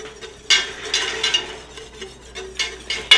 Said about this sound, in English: Use that whisk.